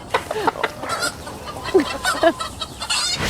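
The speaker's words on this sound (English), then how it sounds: "Did you hear the clucking sounds the chickens made?" Chickens clucking in short, scattered calls and throaty squawks, fairly close and moderately loud, with brief gaps between bursts.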